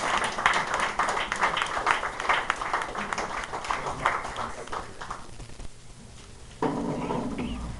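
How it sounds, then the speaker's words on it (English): Audience members at a Second Amendment Tea Party meeting clap for a speaker being introduced. The dense, close applause runs for several seconds, thins out, and a brief burst of voices or handling noise rises near the end. "give us a big round of applause for Kirk"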